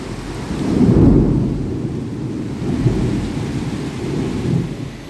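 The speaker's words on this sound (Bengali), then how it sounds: "সেই বৃষ্টি হচ্ছে পুরো, সেই।" Heavy rain pours down steadily during a thunderstorm while deep thunder rumbles swell and fade several times, with a dense hiss throughout and no talking.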